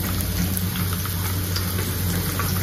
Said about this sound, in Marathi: तर आता तेलात सगळ्यात पहिले मी कांदा टाकणार आहे.